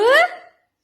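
A dog gives a single short, high, rising whimper close by, a thin tonal cry lasting under half a second before it fades to silence.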